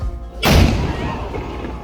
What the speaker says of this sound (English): try to time your visit for the daily cannon shot at noon